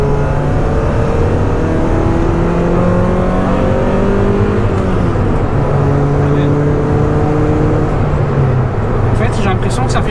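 A Honda Prelude engine pulls hard along a country road, its close, steady drone climbing and shifting in pitch as the car accelerates, with a few high clicks near the end.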